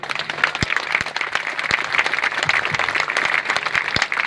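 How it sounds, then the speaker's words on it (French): An audience applauding at a singing contest, dense sustained clapping from a crowd indoors, fairly close and steady, with a few louder individual claps standing out. "vous applaudissez s'il vous plaît Lisa Del Piano et Anaïs Barbaron"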